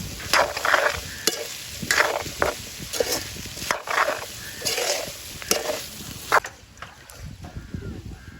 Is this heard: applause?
no